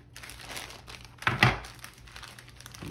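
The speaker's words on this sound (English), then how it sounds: "All right, and it's in a plastic bag." A plastic bag crinkles as a package holding a replacement controller board for a Laser Turbo XT computer is unwrapped, with soft rustling throughout and one louder crunchy burst midway, no talking.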